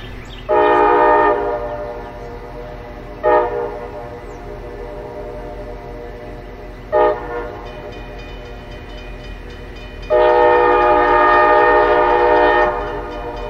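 Freight train horn in small-town Cordele, Georgia on a quiet Sunday morning: a long blast, two short toots, then another long blast, each followed by reverberant echoes bouncing off flat-walled buildings, loud and unaccompanied by voices.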